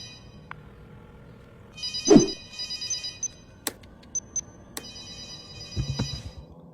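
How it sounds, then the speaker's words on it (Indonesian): A telephone rings from a basement in a film scene, sounding as a repeated electronic ring in several bursts with short gaps, accompanied by a few sharp clicks and thuds. "Kedengeran lah ya kan si Michael ada suara telepon dari bawah basement."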